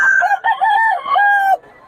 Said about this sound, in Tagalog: Ito yung murang mga manok ni Boss Dada mga idol.